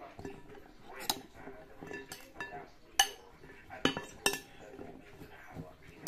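Grated ampalaya and carrot salad tossed in a bowl, with a steady run of light clinks, scrapes and taps of a utensil against the dish, close and fairly quiet.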